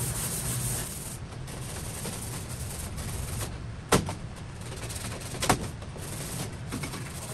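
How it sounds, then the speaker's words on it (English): A Scotch-Brite pad rubs across an aluminum aircraft wing to smooth out scratches, a continuous close scrubbing hiss with two sharp knocks in the middle, and no talking. "I get my scotch brite. I'm just going to smooth those scratches out."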